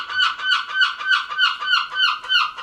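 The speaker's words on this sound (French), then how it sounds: "on l'a bien entendu la mouette" Seagull calling outdoors, a near, loud series of about eight honking, nasal cries repeated in a steady rhythm, alone against quiet background.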